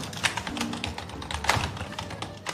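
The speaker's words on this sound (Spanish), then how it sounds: "nosotros los hackers somos más de utilizar comandos y atajos en el teclado" Computer keyboard keys tapped in quick, irregular bursts of close, crisp clicks as keyboard shortcuts are entered, with no voices.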